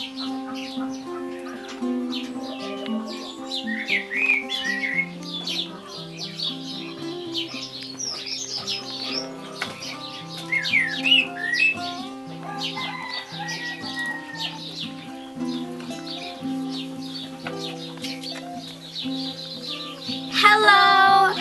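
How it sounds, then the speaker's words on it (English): Coturnix quail, raised organically, call and chirp steadily with busy overlapping bird sounds and some wing flapping, close by and moderately loud throughout. "today we're going to be showing the quails to the new quail house"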